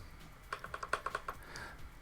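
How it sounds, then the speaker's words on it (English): Typing on a computer keyboard, a quick run of about eight crisp, close key clicks in steady rhythm, with a few softer taps trailing after, no talking. "if I go to this and I just start typing"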